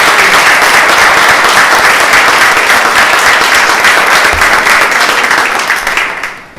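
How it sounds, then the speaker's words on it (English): Loud, dense applause from a large audience at an academic event, continuous and full for several seconds before tapering off sharply at the close. "let's give a round of applause to"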